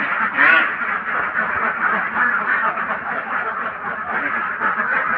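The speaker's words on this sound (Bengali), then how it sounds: "সব খাকি ক্যাম্বেল হাঁস।" A flock of Khaki Campbell ducks quacks continuously on a farm, many overlapping raspy calls forming a dense, loud chorus close by.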